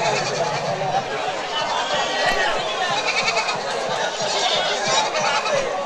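Goats of local native breeds bleat repeatedly amid a busy goat market crowd, with people chattering close by throughout.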